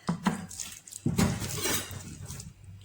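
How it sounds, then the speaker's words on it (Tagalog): Kitchen knife slicing tomatoes for a fresh cucumber-tomato salad, a few sharp taps and cuts on a board with scraping in between, close and fairly quiet. "i-slice natin ang kamatis"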